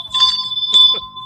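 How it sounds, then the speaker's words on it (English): A small bell sitting on top of a filing cabinet is struck twice in quick succession, each ring bright and close, leaving a sustained clear tone that hangs and slowly fades. "please ring the bell"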